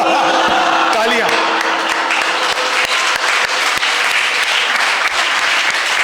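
An audience at a yoga session claps loudly and continuously in dense applause, with a few voices rising briefly at the start.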